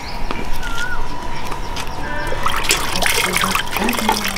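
Water pours and trickles into a cooking pot for Badam Ragda, a steady splashing stream running throughout, with chirpy high sounds over it.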